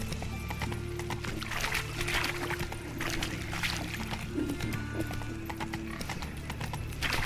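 Roach, the horse in The Witcher 3, gallops with a steady, rapid clip-clop of hooves that stays close and loud throughout, with a brief whinny partway through over a constant low game backdrop.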